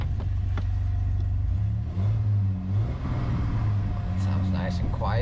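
A Chevrolet ZR2 Blazer with a 4.3 engine idles close by with a low, steady rumble and a slight throaty edge; someone talks over it.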